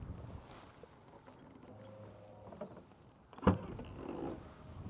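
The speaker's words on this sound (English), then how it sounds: "Boot, soft close" The boot of a 2012 Skoda Superb 1.4 TSI hatchback soft-closing, a faint motorised whir drawing the lid down, ending in a single soft thud with a quiet mechanical settle afterward.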